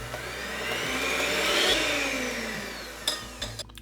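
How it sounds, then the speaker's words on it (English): An electric whisk whirs at high speed through eggs and sugar in a bowl, a steady motor whine that swells and eases, followed by a few knocks near the end. "I will whisk them with an electric whisker"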